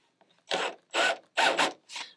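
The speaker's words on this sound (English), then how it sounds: "So I'm just going to chop a little piece out of this strut." A chisel chopping a small piece out of a wooden strut for a 2.4mR sailboat deck hatch: four short, rasping strokes in quick succession, close and fairly loud, with no talk.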